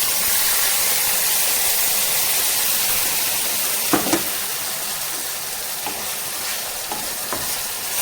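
A spice paste of ground black pepper, roasted coconut, garlic, onion, chili, turmeric and coriander hits a hot pan of browned onions for black pepper curry, giving a loud, steady sizzle broken by a few scraping clicks.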